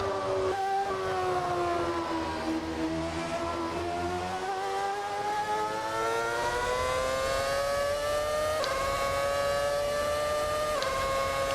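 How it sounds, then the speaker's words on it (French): A video game rally car engine drones and revs steadily with a rising pitch, broken by a couple of sharp exhaust backfire pops near the end. "Les retours d'échappement, voilà."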